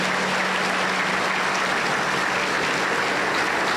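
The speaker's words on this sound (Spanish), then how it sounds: "le recibimos con fuerte aplauso para el Señor Jesús." Sustained, dense applause from a Pentecostal church congregation in Huancayo, steady and fairly loud throughout with no voices standing out.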